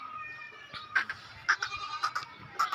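Goats bleating on a goat farm with heavyweight Qurbani bucks, several short nasal bleats in quick succession, fairly close and loud over a quiet background.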